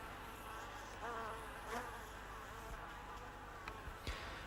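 Bees buzzing around beehives among wildflowers in the Greek countryside, a faint steady drone of several insects with a few close passes.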